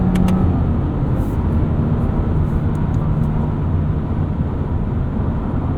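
A Subaru Impreza RS on the move fills the cabin with a steady engine and road drone that barely changes, with only slight dips where it lurches between shifts.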